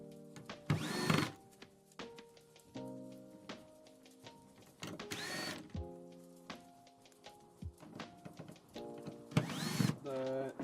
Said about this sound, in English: Okay, I did grab my drill.